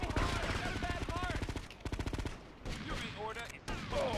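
Rapid automatic gunfire from the video game GTA Liberty City Stories, loud bursts of rattling shots through most of the stretch, pausing briefly and then resuming in shorter volleys.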